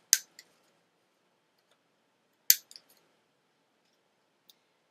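Scissors snipping the rounded corners of a paper envelope flap, two quick crisp cuts a couple of seconds apart, each followed by a light click, in a quiet room.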